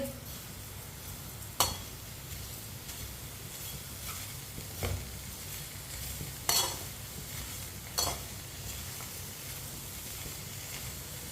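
Sugar stirred and mixed in a pan, heard as a steady low scraping with a few sharp utensil clicks against the metal spread across the stretch, no voices present.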